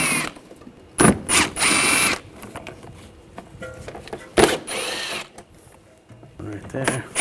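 An 8mm socket on a ratchet unscrews inner fender well screws on a 2009-2013 BMW 328i, giving close, loud bursts of rapid clicking in several separate runs with quieter mechanical handling between them.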